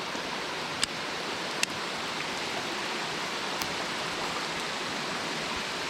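Heavy rain pours down beside a flooded creek, a dense, steady hiss of falling water throughout, with a few faint clicks or knocks breaking through.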